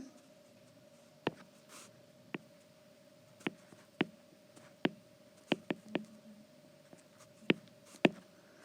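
Chalk or marker strokes on a board as vertical equilibrium equations are written out, a series of sharp, separate taps and short scratches at irregular intervals over a steady low hum, with no talking.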